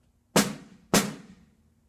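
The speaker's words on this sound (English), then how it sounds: "when strung tightly across the bottom head, create that signature snare drum sound." Two crisp snare drum hits with the snares on, about half a second apart, each with a bright, buzzy rattle that fades quickly.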